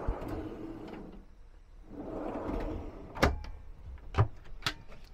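A slide-out drawer in a 2024 Stealth 16 caravan is pulled open twice with a soft rolling slide, each pull ending in a sharp knock, followed by a few lighter clicks nearby.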